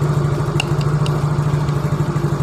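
A motorcycle engine with a weak, drained battery revs as the throttle is opened, a steady low mid-range drone with faint clattering ticks, loud and close, with no talking.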